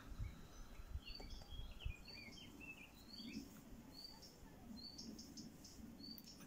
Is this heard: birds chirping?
yes